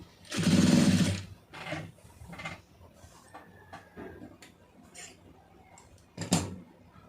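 A tailor's sewing machine runs a burst of rapid stitching through a large piece of fabric near the start, then falls to quieter handling noises and a second short run near the end.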